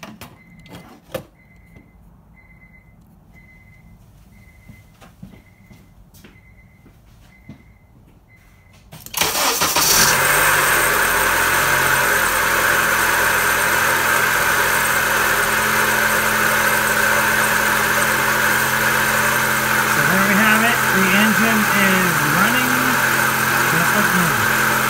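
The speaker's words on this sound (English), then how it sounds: "let's crank up the engine and see how it goes" A 2005 Honda CR-V with a newly replaced alternator is cranked and fires up after a quiet stretch with a repeating chime, then settles into a loud, steady idle up close.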